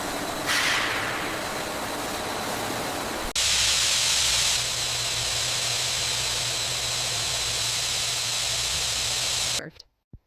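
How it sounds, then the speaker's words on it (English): Continuous loud steam hiss in a sunflower oil production plant, a broadband rushing sound that surges louder partway through, then cuts off abruptly near the end. "Maintaining steam flow."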